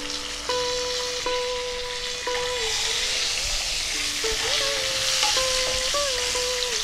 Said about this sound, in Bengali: আলুটা বেশ লালচে করে ভেজে নেব।